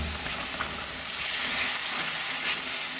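Mashed vegetable bharta sizzles and hisses in a pan with garlic fried light red and black cumin. The frying is loud and close, a steady hiss that runs through the whole stretch with no talk over it.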